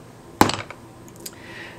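A small 8-ounce hammer strikes once while a ribbon tie is being inset in bookbinding, a sharp close tap followed by a brief ringing decay and a fainter second tap.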